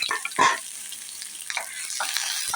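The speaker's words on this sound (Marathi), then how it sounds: "आता मी याच्यामध्ये एक चमचा तेल घातलेलं आहे आणि हा कांदा आपण भाजून घेऊया" Chopped onion frying in a spoonful of oil in a pan, with crackling sizzle and sharp scraping stirs in short bursts, close up and with no voices.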